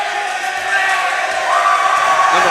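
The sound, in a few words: basketball crowd cheering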